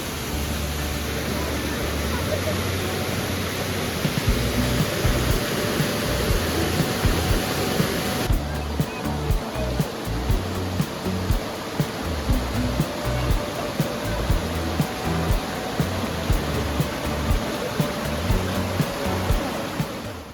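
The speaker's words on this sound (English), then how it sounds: "the head of the Avalanche Falls. That is a 45-foot waterfall." Avalanche Falls, a 45-foot waterfall in New Hampshire's Flume Gorge, gives a loud, steady rushing roar of falling water that fills the whole stretch without pause.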